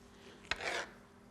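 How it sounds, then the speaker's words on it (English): A knife slicing across an orange, one quick cut with a sharp onset and a short rasping, juicy drag, close and quiet, alone. "we're just going to cut across the oranges and make orange slices"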